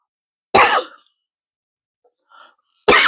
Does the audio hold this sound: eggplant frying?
no